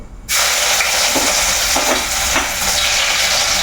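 Ginger dropped into hot oil with fenugreek in a pan bursts into a loud, steady sizzle after a brief quiet start, with faint stirring scrapes, close up.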